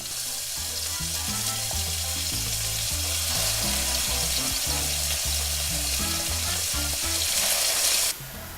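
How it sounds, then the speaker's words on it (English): Loud, steady sizzling of chicken pieces frying in a hot pan, a constant crackling hiss with some rhythmic stirring or clatter underneath, cutting off abruptly near the end. "Hear that sizzle? That's the kind of sound that we want to hear."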